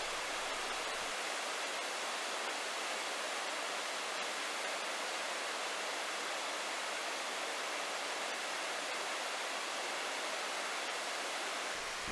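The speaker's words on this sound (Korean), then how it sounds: "당겨본 2단 폭포의 경치입니다." Steady broadband roar of a two-tier waterfall in a mountain valley at about 793 m elevation, upstream of Boksungtang Falls in the Sibiseonnyeotang valley, continuous and even throughout with no voices.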